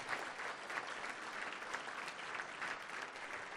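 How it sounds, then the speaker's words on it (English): Sustained applause from an audience at a university academic achievers' awards ceremony, a dense, steady wash of many hands clapping at even loudness throughout, with no voices above it. "Could we give them one last resounding applause?"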